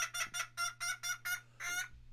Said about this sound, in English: Even the chickens are upset.